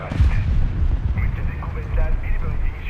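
Gunfire and explosions from the War Thunder game roll on as continuous heavy low booms and rumbling battle noise, with faint mid-range effects over the top.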